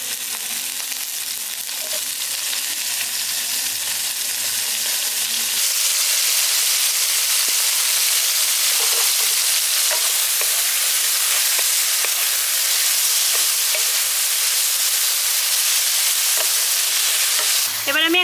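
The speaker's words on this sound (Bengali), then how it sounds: "এবার ঢ্যাঁড়সগুলো আমি হালকা করে একটু ভেজে নিচ্ছি।" Okra frying lightly in hot mustard oil, a steady bright sizzle that swells louder after a few seconds and holds, with occasional stirring clicks and pops.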